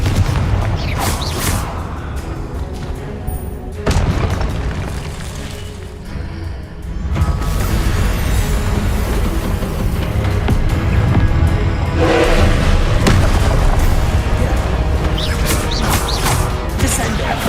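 Blasting-spell explosions in the Hogwarts Legacy video game sound as loud, booming crashes and bursts over a dense, continuous background of game sound effects and music. There are a few sharp hits and one brief lull partway through.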